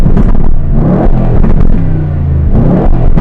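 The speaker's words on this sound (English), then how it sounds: "I've got all the revs here." A loud Aston Martin car engine revs up and down repeatedly, close by, with deep rumbling and rising and falling pitch.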